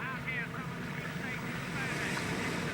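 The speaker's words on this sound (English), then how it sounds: "Listen to the backwash now." Rushing, splashing backwash churns loudly against a low boat engine rumble as the boat passes under a railway bridge, with gusty wind noise over the top.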